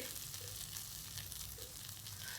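Soaked chana dal mixture, seasoned with salt, sautés in a pan, giving a steady close sizzle with a soft frying hiss that runs throughout.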